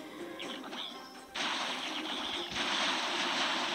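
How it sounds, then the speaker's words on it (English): Bombs explode in the mobile strategy game Clash of Clans, two loud crashing bursts with noisy rumbling tails, the second sustained to the end, over faint game sounds. "They just throw bombs like crazy."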